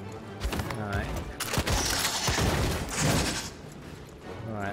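Shotgun blasts in the video game Lost Ark, several sharp booming shots fired in quick succession amid game effects, with a voice talking over them.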